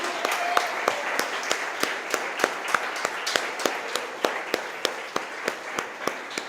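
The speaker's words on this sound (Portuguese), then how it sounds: "Você pode aplaudir ao Senhor, querido?" Worshippers at Paz Church Marília clap to the Lord in a steady, evenly spaced rhythm, sharp claps repeating about three times per second over a soft background wash for the whole stretch.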